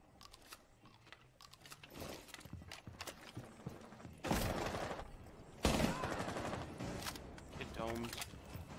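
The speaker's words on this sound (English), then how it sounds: "Swapping mags!" Mechanical clicks and clacks of a magazine swap and reload in a first-person shooter game, overlapped by bursts of gunfire and a player talking.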